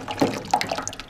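Hot water poured over a chicken at a home in Ethiopia to loosen its feathers, a brief close splash and gurgle with no speech.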